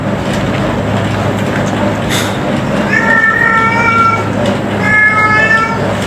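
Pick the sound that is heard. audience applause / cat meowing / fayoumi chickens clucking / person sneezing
cat meowing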